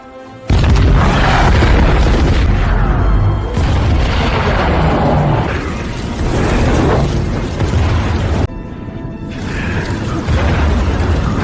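Huge booming explosions of oil tanks detonated in the film Stalingrad, several loud blasts in succession with rumbling roar and debris between them.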